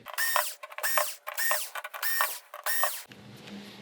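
Screws being removed from the chassis of an LG 55UM6910PUC television, heard as a series of five close, evenly spaced whirring, ratcheting bursts, followed by a quieter low hum.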